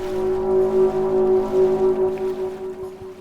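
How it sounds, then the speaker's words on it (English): A ship's foghorn sounds one prolonged, steady blast, loud and sustained with a deep tone, over faint background rumble. "A single prolonged blast indicating that it was still traveling, but this blast was loud, much louder than it should have been"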